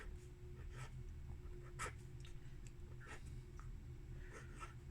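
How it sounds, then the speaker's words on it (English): A modified Pilot Parallel pen loaded with white ink scratches faint, short strokes across paper with its wide nib, quiet and close with brief pauses between letters. "Now as I make the letters, if I need a different angle, I will change the nib angle."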